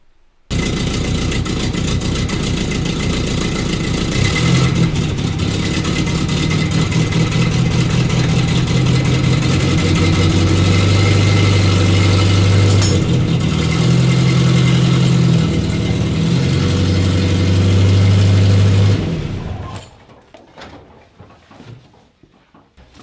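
A truck engine runs steadily and loudly nearby, idling and then pulling slowly forward about two feet during tire chain fitting; the rumble holds for most of the time before cutting off abruptly near the end.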